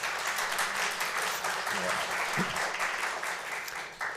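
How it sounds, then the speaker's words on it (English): An audience claps steadily as a speaker from Tampere University is welcomed to the stage at a culture and creativity event in Helsinki, sustained applause with no talk over it. "now big applause for Timo"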